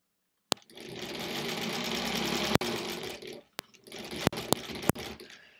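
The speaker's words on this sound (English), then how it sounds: "Definitely sounds different than the old machine, doesn't it?" A 1938 Kenmore model 38 sewing machine stitches seams on half square triangles, with a steady close whirring run, a brief stop, then a second run broken by sharp clicks and knocks.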